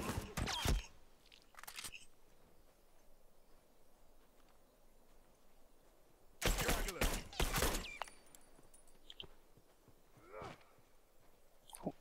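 Gunfire in The Last of Us multiplayer, a few sharp shots early on and then a loud cluster of rapid cracks in the middle, followed by faint scattered noises in an otherwise quiet scene.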